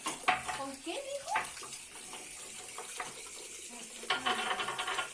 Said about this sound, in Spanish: Lavamos las piedras para que estén súper limpias